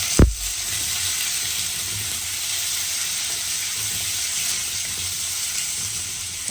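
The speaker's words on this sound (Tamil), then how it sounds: "வெங்காயம் வதங்கிட்டு இப்போ தக்காளி பழத்தை போடுவோம்." Onions fry in a pan as tomatoes drop in with a brief thud, followed by a steady, close hiss of sizzling oil with faint stirring scrapes beneath.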